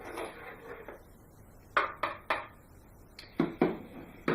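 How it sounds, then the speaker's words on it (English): A spoon stirs a pot of blue lemon tea, knocking and clinking against the sides in several sharp, separate strikes over a quiet room background. "So stir it around, and this is an absolutely blue color."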